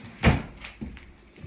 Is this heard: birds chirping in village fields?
no